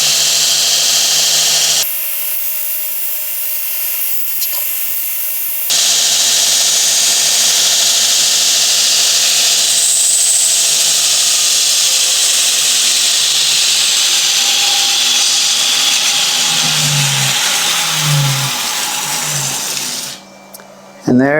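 A belt grinder with a 60 grit belt rounds over a piece of metal, giving a loud, continuous roaring whine that dips briefly early on, holds steady, then cuts off abruptly at the end.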